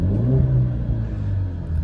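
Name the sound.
2020 Ford Mustang 2.3 liter 4-cylinder engine running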